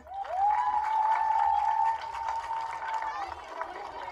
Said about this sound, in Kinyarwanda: Mwongere mukomere amashyi.